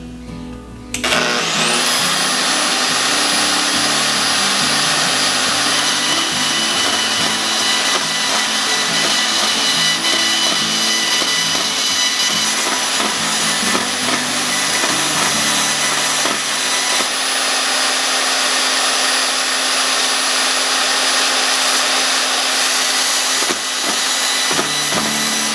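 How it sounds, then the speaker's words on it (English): Bandsaw running steadily through a straight cut in wood for a mountain design, a loud continuous whine with a high tone held throughout and a broad buzzing roar, with no voices. "now I'm going to finish up the mountain design on this bandsaw"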